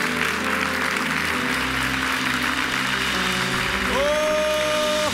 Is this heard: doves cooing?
no